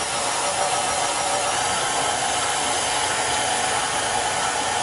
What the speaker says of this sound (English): Your mixer's quieter than my Pro.